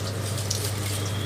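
Tap water pours steadily into a kitchen sink while dishes are washed, a close, even rush with no break over a short moment.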